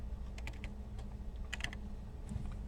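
Keys clatter on a computer keyboard in irregular bursts of quick clicks, close and moderately loud over a steady low hum, while code is typed into an IDE.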